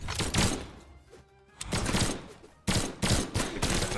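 Cassidy's guns fire in a video game match, three dense bursts of rapid gunfire split by short pauses, loud and close.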